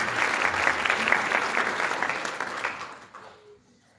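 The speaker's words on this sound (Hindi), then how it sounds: "हम उन्हें वेलकम करेंगे तालियों में।" Applause from a church congregation at Sunday worship welcoming a guest speaker, a dense burst of clapping that fades away toward the end.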